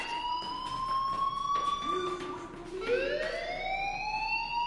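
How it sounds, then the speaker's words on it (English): Electronic fire alarm ringing in the Life is Strange video game, a steady tonal wail that dips and then rises again midway, with faint ambient noise underneath. "do you hear that fire alarm?"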